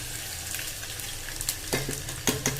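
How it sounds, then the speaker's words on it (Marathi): Grated ginger and garlic fry with curry leaves in hot oil for palak varan, giving a continuous close sizzle with a few sharp spoon scrapes and stirring clacks toward the end. "कढीपत्ता चांगला झाल्यानंतर त्यात टाकायचंय आलं लसूण किसून घेतलेलं, ते टाकून द्यायचं"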